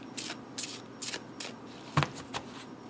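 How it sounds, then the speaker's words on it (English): A deck of oracle cards on new, stiff Llewellyn cardstock is shuffled by hand, giving a series of short papery riffles and taps, close and quiet, with no talking. "I don't know why I'm going through all the shuffling"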